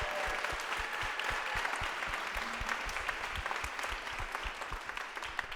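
A concert audience in the Kasser Theater applauds steadily after a university choir performance. The clapping is even and sustained, heard from a distance and fairly soft, with no talk over it.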